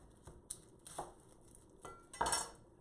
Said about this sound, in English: The way I cut an onion, I cut it in half, cut the tips off